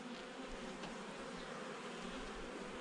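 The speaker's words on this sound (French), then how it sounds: "Là c'est des abeilles émergentes." Honeybees in an opened hive box give a dense, steady buzz that fills the air close by. It continues without a break, and no one speaks.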